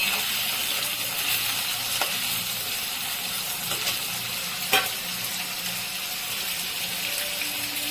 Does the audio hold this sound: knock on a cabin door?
no